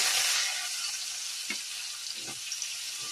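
Coriander and spices sizzling in hot oil for a Khandeshi-style tempering, a steady bright frying hiss that is loudest at first, with a few soft stirring taps near the end and no talk.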